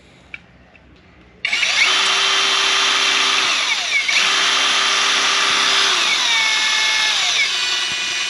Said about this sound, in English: You want to try the new drill?